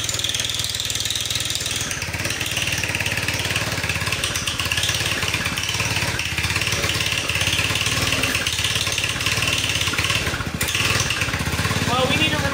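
A 1969 Powell vintage mini bike's small engine chugs and idles unevenly nearby, a loud continuous mechanical drone with people talking over it.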